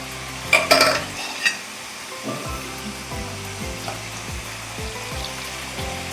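Masala paste of coconut, ginger, garlic, cumin and coriander frying in a pan for a drumstick and potato curry, a steady soft sizzle with a few clinks of a utensil early on, close and alone.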